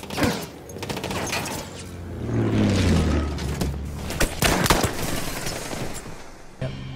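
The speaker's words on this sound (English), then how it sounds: "Machine gun!" Battlefield 1 machine gun fire, rapid rattling bursts with heavy booms in a loud, close battle scene, continuing through most of the seven seconds with a low droning rumble underneath.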